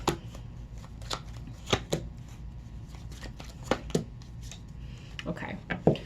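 Tarot cards shuffled by hand, a series of quick crisp riffles and taps in uneven bursts, close and quiet, with a voice speaking at times.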